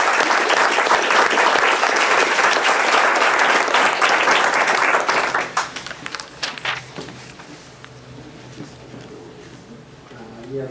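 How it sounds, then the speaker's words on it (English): Audience applause after a talk at a law school apps competition, a dense crowd clapping loudly for about five seconds before thinning into scattered claps and fading, with talk rising as it dies down. "let's give another round of applause."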